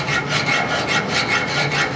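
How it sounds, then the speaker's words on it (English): A metal file rasping across a hammer head to remove nicks and scratches, in quick even back-and-forth strokes, close and steady with no talking. "And I'm going to file until all those nicks and scratches are out."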